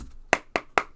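Three sharp knocks on a tarot card deck, evenly spaced about a quarter second apart, close and crisp with nothing else around them.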